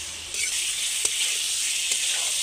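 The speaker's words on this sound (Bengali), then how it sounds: "এবার একসাথে ভালো করে মিক্স করে কষিয়ে নেব।" Ground spice paste with a splash of water sizzling while being stirred in a pan for a small-fish and potato curry, a loud steady hiss with a couple of soft spatula knocks against the pan partway through.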